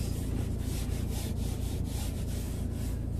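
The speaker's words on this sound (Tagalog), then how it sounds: "onting spray lang dito sa tela. And then, pwede nang ipunas-punas." A cloth wipes a car dashboard after a spray of cleaner, making close, continuous rubbing with quick repeated strokes in an even rhythm.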